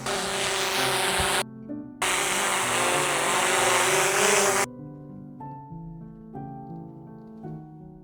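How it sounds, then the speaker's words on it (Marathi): A camera drone flies in to land outdoors in a village, giving a loud, steady whirring buzz for about four and a half seconds with a brief break, then cutting out while soft music continues. "तर चला आता ड्रोन आपण लँड करून घेऊ"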